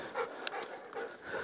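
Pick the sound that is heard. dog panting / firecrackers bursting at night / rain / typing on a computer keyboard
dog panting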